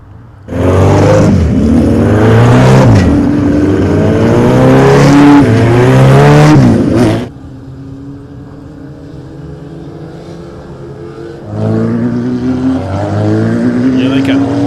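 Historic race cars scream past in a loud engine roar with rising and falling revs, drop to a quieter idle-like drone, then rev up again, with a commentator talking throughout.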